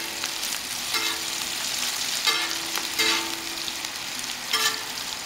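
Onions fry on a tawa with a steady crackling sizzle, punctuated by a few sharper spatters and stirring touches, close and moderately loud.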